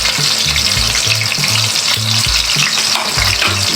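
Garlic paste and green chili fry loudly in a pan, a dense close sizzle running throughout with repeated low scraping thumps of stirring, no talking.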